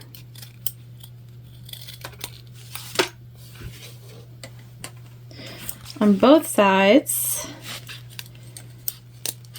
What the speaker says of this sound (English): We have to just trim up our zipper end here.